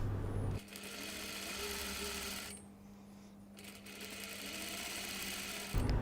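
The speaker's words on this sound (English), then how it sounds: "I'm stitching the button stand now." An electric sewing machine stitching the button stand of a cashmere jacket, running as a steady low motor hum with a brief pause in the middle before the stitching resumes.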